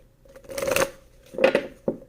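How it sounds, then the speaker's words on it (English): Tarot cards being shuffled by hand in two quick riffling bursts, followed by a brief sharp snap as the deck settles. Close and fairly quiet, with no talk. "One more shuffle."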